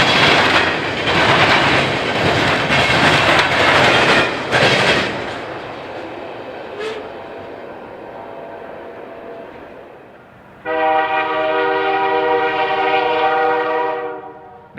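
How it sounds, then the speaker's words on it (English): CSX freight train M648 rumbles past on a snowy December morning with loud rolling wheel noise that fades away, then a long, strong multi-tone horn blast sounds near the end. "The first train at the Heights this snowy December morning is CSX train M648, which runs from Georgia to the BRC's clearing yard"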